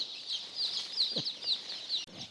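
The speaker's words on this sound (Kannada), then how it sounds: "ನಾಟಿ ಕೋಳಿ ಮರಿಗಳಿದೆ. ಎಲ್ಲ ಗೌರ್ಮೆಂಟ್ ಫಾರ್ಮಿಂದ ತಂದಿರೋಂಥದ್ದು ನೋಡಿ." Day-old native desi chicks, just unloaded from a government farm, peep continuously in a dense, high chorus close by, with a couple of soft bumps underneath.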